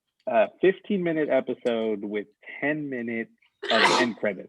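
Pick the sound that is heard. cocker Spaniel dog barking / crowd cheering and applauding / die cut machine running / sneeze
sneeze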